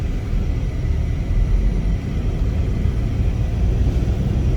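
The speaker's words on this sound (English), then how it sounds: "We're now going for a spin on this car." Cabin sound of a 2011 Volkswagen Vento Highline DSG automatic petrol sedan on the move: a steady low road rumble and engine hum, smooth and continuous with no talking.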